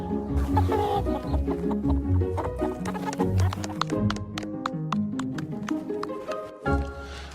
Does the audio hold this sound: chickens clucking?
yes